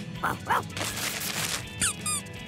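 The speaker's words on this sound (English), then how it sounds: "It's a squeaky toy." A dog's squeaky toy in a children's cartoon squeaks in several short, sharp bursts, a few close squeals spread across the moment, with a bit of voice in the background.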